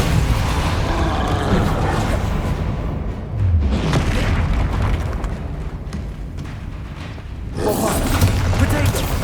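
Explosive spells Bombarda and Confringo from the video game Hogwarts Legacy burst as booming, shattering blasts amid loud combat noise, with two heavy bursts at the start and end of the stretch and a calmer stretch between.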